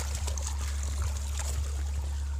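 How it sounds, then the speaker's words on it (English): Water runs out of a pipe fed from a fish pond, a steady close trickle and gurgle over a constant low hum, with no voices. "Look at how water is coming out."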